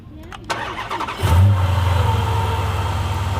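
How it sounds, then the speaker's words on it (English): A supercharged Dodge Challenger making about 640 horsepower at the wheels fires up and settles into a loud, deep, steady rumble that runs close and unbroken to the end. "That's a good supercharger right there."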